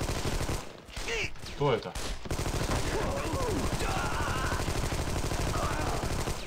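Gunfire in the third-person shooter Armed and Dangerous: a steady stream of shots and game noise runs throughout under a brief spoken question, with a short quieter gap near the start.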